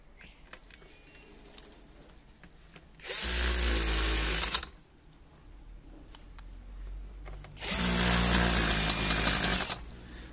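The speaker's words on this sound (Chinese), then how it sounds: "这边有螺丝啊，再把螺丝给它固定" Power screwdriver driving screws into a water heater pump during a repair, two loud sustained whirring bursts of about one and a half to two seconds each, separated by quiet handling noises.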